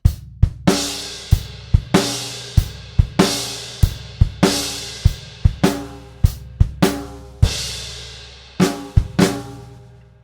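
Drum kit groove, with crash cymbals and bass drum accents, steady hi-hat and snare flams, played loud and close as a solo kit in a lesson setting with no talking.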